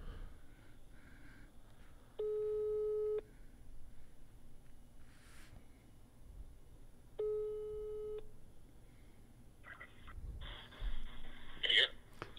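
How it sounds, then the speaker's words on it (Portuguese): Telephone ringing tone while placing a call: two long, evenly spaced electronic tones about five seconds apart, heard over a quiet background with faint voices and noises. "Pode ligar pro Serjão Lourosa?"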